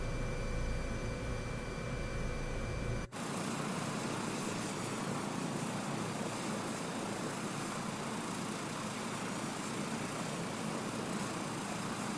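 Helicopter in Microsoft Flight Simulator 2024 on PlayStation 5 Pro, its rotor and engine making a steady, dense drone that cuts to a broader rushing wash after a brief break, continuous and loud throughout.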